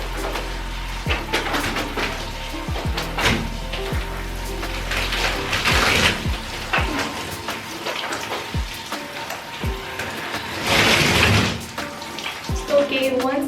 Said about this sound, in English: so I'm just gonna rinse off the body soap and my shampoo.